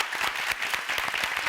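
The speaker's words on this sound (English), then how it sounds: "A round of applause." Studio audience applause at a televised debate show, a dense, even patter of many hands clapping steadily throughout, close and continuous.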